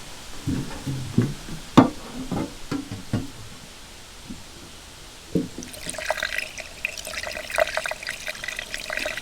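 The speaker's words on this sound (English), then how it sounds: "dump some more loose juice down those cylinders" Penetrating oil is poured down the big cylinders of an old Caterpillar RD-6 tractor engine, giving soft splashy trickles and drips close up, followed by a thinner, steadier stream.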